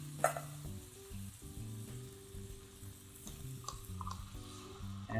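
Lemons and garlic sizzle in a hot pan, a soft steady frying crackle with scattered pops, beneath a low sustained hum from the stove area, with no talking.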